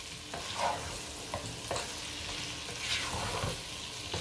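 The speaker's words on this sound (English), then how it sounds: "I'm going to stir it together" Gizdodo, gizzards and plantain with spices, gets stirred in a frying pan: a steady sizzle with repeated scraping strokes of the spoon against the pan, close and moderately loud, with no talk.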